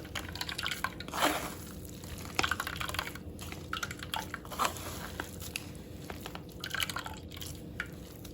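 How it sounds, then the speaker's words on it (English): Corn paste for a Brazilian corn cake is pressed by hand to squeeze out liquid, giving soft, irregular wet squelches and drips, quiet and close, with no talk. "If I just need to press the liquid out."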